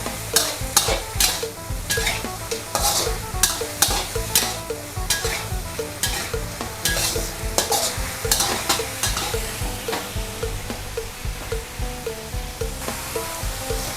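Stir-fried spicy field rat being stirred in a hot pan, with a steady loud sizzle and repeated sharp scraping strokes of the utensil in a regular rhythm, close up, no talking.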